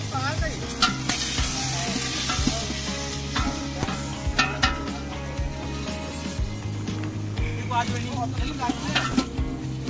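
Chicken meat frying and being stirred in a pot for handi chicken at an outdoor picnic, a loud continuous sizzle with scraping spoon strokes and clinks, faint voices in the background.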